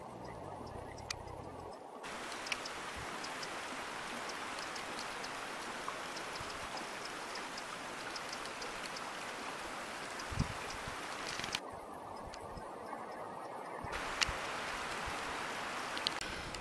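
Flowing water of the Crawfordland Water stream near Dunton Cove in East Ayrshire, a steady broadband rush that runs unbroken throughout, with a few faint clicks and splashes over the continuous wash.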